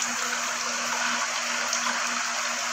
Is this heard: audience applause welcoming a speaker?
no